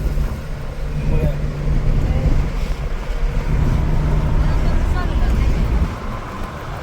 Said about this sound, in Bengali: ওই দেখো কত লঞ্চ টলার।